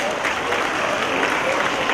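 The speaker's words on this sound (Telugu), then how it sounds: "చప్పట్లు కొట్టండి కోరుకుంటే" An audience at a school's 23rd anniversary function claps in sustained, dense applause, loud and close, with a voice faintly mixed in beneath the clapping.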